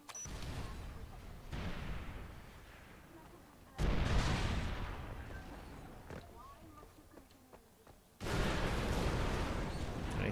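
C4 charges detonating in Far Cry 4 go off as two loud, deep booms several seconds apart, each decaying into rumble, while players talk over the game sounds.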